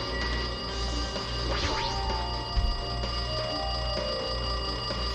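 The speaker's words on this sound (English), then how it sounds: "The fucking noise of the phone?" Telephone ringing in the video game Danganronpa 2, a repeating electronic ring steady and fairly loud over a low game music bed, with no talking.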